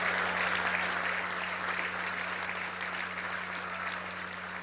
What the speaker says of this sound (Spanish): Y un fuerte aplauso a ustedes que han aguantado el calor.